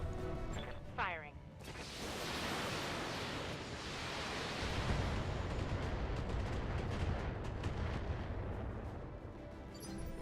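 A salvo of LRM long-range missiles fired from a battle mech in BattleTech, swelling after a brief sound into a loud, sustained rushing roar of launches and impacts that rumbles on for several seconds.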